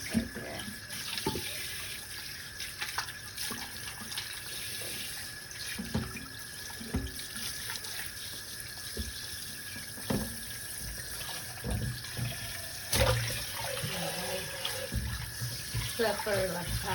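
Tap water runs steadily into a cooking pot for boiling tomatoes, garlic and onion, a continuous hissing splash over several seconds with faint clinks and background kitchen noise.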